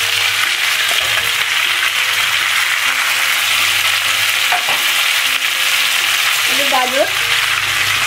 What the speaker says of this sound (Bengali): এবার আমি এর মধ্যে ক্যাপসিকাম, পেঁয়াজ এগুলো সব দিয়ে দেবো, দিয়ে আমি এগুলো করে নাড়াচাড়া করে দেবো